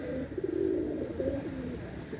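Banded homing pigeons at a pigeon loft coo in a steady, overlapping murmur of low throaty calls, fairly close and continuous, with no talk over them.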